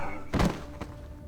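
Death Knight hero dying in Warcraft III: a brief hollow thud and low groan, then a fainter second knock, alone and fairly quiet.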